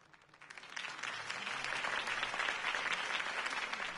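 In the video game Batman: The Telltale Series on PS4, a crowd breaks into steady applause after a campaign speech, swelling after a quiet start and holding at a full, dense level of many hands clapping.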